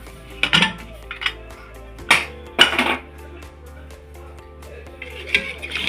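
A pressure cooker holding country chicken saaru is opened after cooking: a few sharp metallic clanks and rattles of the lid and pot in quick bursts, separated by quiet gaps.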